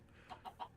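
Minecraft chicken clucks three quick, faint times in succession, a short soft burst of game sound effects.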